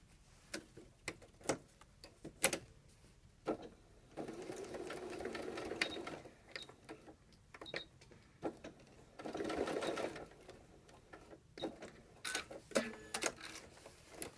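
A sewing machine runs in short bursts, needle clattering rapidly, with sharp clicks and taps between the stitching runs.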